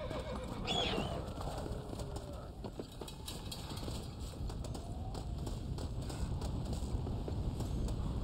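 A horse in Red Dead Redemption: Undead Nightmare whinnies early on, followed by steady hoofbeats and movement noise over a continuous background, with no talking.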